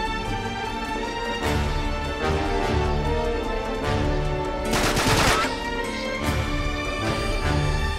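Gunfire from the video game Uncharted 3: Drake's Deception, a steady run of loud shots and bursts with a denser volley near the middle, set over constant game music and ambience.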